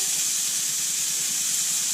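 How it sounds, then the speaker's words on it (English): Hot fat sizzles steadily as steak sears in a pan, a close, bright, continuous crackling hiss with no voices. "You never want to cook steak without that sizzle."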